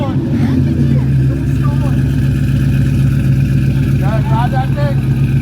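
An abandoned Pontiac GTO project car engine runs with a loud, steady low drone that swells slightly as it revs, close up, while people talk over it.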